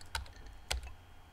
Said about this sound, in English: Emily is typing. She types really fast.